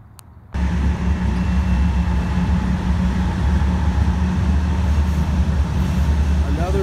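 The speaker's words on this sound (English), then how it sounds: "Another fucking BN junker train." A BN freight train rolls past close by, a loud, steady rumble with grinding wheel noise that cuts in abruptly after a brief quiet moment and holds through to the end.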